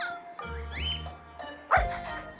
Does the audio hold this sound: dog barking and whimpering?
yes